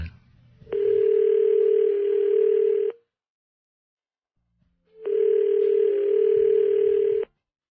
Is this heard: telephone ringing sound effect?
yes